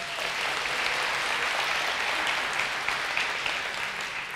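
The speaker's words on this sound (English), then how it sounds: "Tyson, give them a round of applause." A crowd claps steadily, sustained applause with no voices rising above it.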